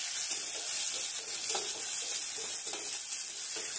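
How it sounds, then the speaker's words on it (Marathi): Sliced onions sautéing in oil in a pressure cooker, a quiet steady sizzle with soft crackles and occasional stirring scrapes, alone without voices. "साधारण 1 वाटी भरून कांद्याचे काप कुकरमध्ये टाकायचे आहे आणि परतून घ्यायचे आहे"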